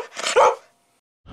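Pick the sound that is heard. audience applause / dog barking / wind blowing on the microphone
dog barking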